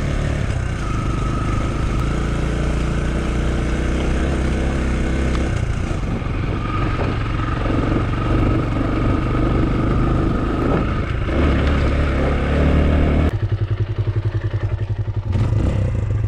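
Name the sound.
kulong-kulong motorized tricycle driving through mud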